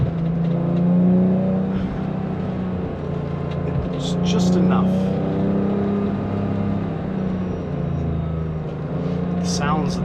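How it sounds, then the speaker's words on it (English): A 1988 BMW E28 M5 engine hums and pulls steadily from inside the moving car, a loud, even low drone with slight swells in pitch, while someone speaks a few words over it. "The sounds that these cars make are just perfect."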